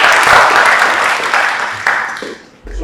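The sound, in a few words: audience applause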